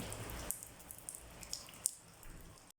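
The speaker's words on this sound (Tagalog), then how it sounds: "Ulan, umuulan." Soft, steady rain patters on a surface, with scattered droplets ticking faintly against a quiet hiss.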